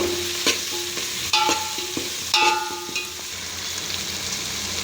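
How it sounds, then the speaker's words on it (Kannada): Rice frying in hot oil in a pan sizzles steadily while a spoon scrapes and stirs in a few sharp, close strokes. "ನೋಡಿ ಫ್ರೆಂಡ್ಸ್, ಈ ಥರ ಫ್ರೈ ಆಗ್ತಾ ಇರಬೇಕಿದು."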